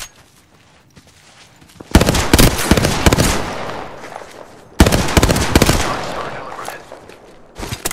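Gunfire in the battle royale shooter Apex Legends, two loud bursts of rapid automatic shots, each followed by ringing decay, with a third burst starting at the end.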